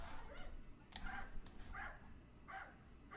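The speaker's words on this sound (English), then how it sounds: "Sorry about the dog outside." A dog outside gives several short whimpering yelps and barks, fairly faint and distant, spread across a few seconds over a steady low background hum.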